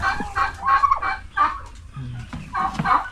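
Two turkeys gobble repeatedly in rapid, warbling bursts close by, with a few clucking calls mixed in.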